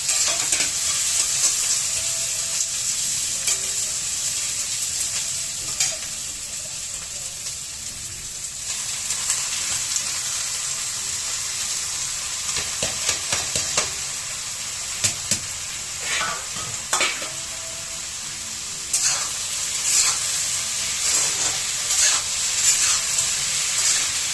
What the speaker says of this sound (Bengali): এখন এই পেঁয়াজ কাঁচা ঝাল একসাথে দিয়ে দেবো, সাথে সাথে আমি আলু भी দিয়ে দেবো, সব কিছু একসাথে ভাজা হয়ে যাবে।